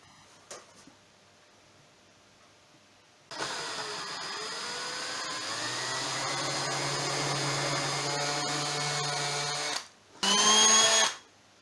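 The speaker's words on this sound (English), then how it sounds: "So I'll drill them out" A power drill whines steadily for several seconds, its pitch shifting as it bores holes through a guitar body, then stops and briefly spins up again.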